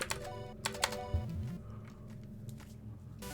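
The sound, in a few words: clicking sound in video game Jimmy and the Pulsating Mass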